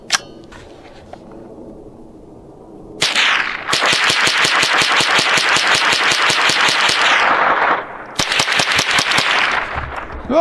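A Rock Island TM-22 Feather Lite .22 rifle fires a long string of sharp, evenly spaced shots at a fast rhythm, loud and close, pausing briefly before a final shorter burst.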